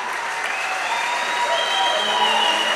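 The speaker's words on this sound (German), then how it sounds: "Applaus aus Weiher, Applaus aus dem Saal." A hall audience applauds at the election and crowning of the Palatinate wine queen, with sustained, even clapping from a large crowd lasting a few seconds.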